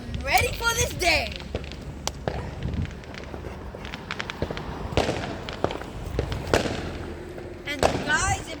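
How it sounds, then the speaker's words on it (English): Fireworks going off on Guy Fawkes Day crackle and pop in quick irregular bursts, with sharp bangs and whistling fizzes scattered throughout, moderately close, while people talk and move around nearby. "today's Guy Fawkes Day and we're setting fireworks"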